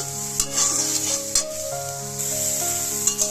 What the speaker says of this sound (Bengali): সয়াবিনটা আমি প্রথমে ভাজা করে নেবো